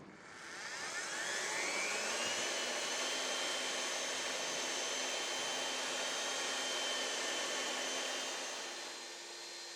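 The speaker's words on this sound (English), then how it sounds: "Partway through the mixing, turn off the drill stirrer" A drill stirrer whirs steadily and loudly while mixing Koster 21 waterproofing powder into liquid, spinning up at the start, holding an even whine, and winding down at the end.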